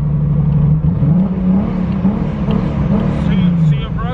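A misfiring car engine with a broken transmission in a video game, droning steadily and loudly with a wavering, slightly rising and falling pitch throughout.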